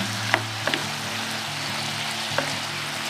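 Pork stir-frying with fermented fish sauce and sweet peppers in a pan, a steady close sizzle broken by a few light clicks of a utensil stirring.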